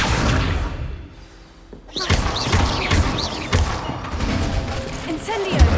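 The Accio summoning spell in Hogwarts Legacy is cast amid a busy, loud clatter of thumps, crashes and whooshes, with mechanical rattling and smashing sounds following a brief lull.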